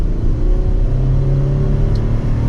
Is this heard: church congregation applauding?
no